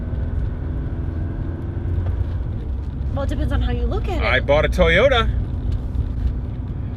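A Porsche 944 engine runs steadily during a drive, a low, even hum from inside the car beneath two people chatting.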